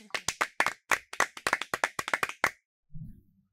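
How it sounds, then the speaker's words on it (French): An audience at a school ceremony claps in a brisk, fairly close burst of applause lasting a couple of seconds, followed by a brief low sound. "Sous vos applaudissements, s'il vous plaît."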